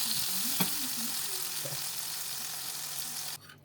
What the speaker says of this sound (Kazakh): қызып тұрған табамызға дайындап алған котлетімізді осылай салып, екі жағын бірдей етіп қуырып аламыз